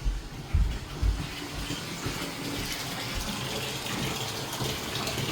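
Steady rushing water pours continuously, like a tap filling a tub, with a few low thumps near the start and no voices.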